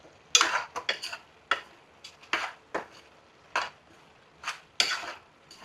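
Mutton curry stirred in a pot with a metal spoon gives sharp, scattered scrapes and clinks against the side, about a dozen close strokes at an uneven pace with quiet gaps between them, and no talking.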